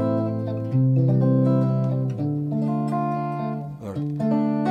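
A guitar plays in a minor key with a sad, somber feel, a few sustained chords ringing out loud and close, changing at slow intervals with no talking.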